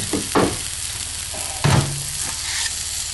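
Hot dogs and tortillas frying together in a pan, a steady sizzle with a couple of louder bursts as the food is stirred and moved around. Close and alone, with no voices.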